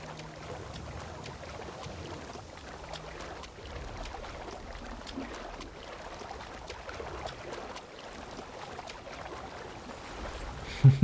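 Steady rushing water and broadband wash from a character swimming across a strong river current in the video game Assassin's Creed Shadows, a continuous churning flow at moderate level with a brief louder splash near the end.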